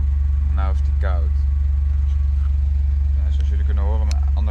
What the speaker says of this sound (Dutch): Zoals jullie kunnen horen, mijn andere einddemper zit erop.